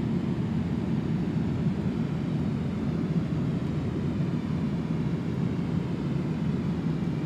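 The engines of a large aircraft give a steady, deep roar and rumble as power is added, holding loud and even the whole time with no voices.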